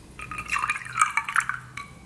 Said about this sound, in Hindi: और इसमें अब मैं डालूंगा वाटर